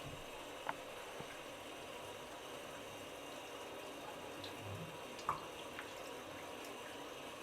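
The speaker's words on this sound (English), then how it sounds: "under running water." Makeup brush rinsed under a running tap, a steady, fairly quiet stream of water with a couple of brief knocks and splashes.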